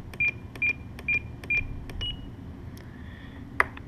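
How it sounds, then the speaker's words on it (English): A Spektrum NX radio transmitter gives a series of four short, evenly spaced electronic centering beeps, then a higher held tone and a soft rising tone, ending with a sharp click. "it'll do the centering beep once again"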